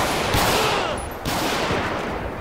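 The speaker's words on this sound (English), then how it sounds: "We're gonna fire back." Gunfire in a GTA V police-mod shootout, with two loud, close bursts of shots each ringing into a broad noisy tail, and no voices.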